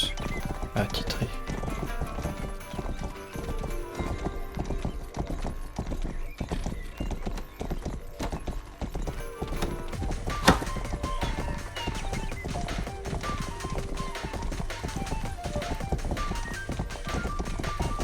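Horse hooves clip-clopping steadily in a video game, a continuous even gallop rhythm with an occasional whinny, mixed with game sounds in the background.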